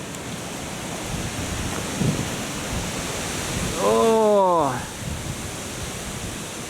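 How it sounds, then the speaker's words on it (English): Steady broadband wind rush fills the clip, with a brief spoken exclamation midway over the blustery outdoor noise. "definitely getting a bit bloody windy around here"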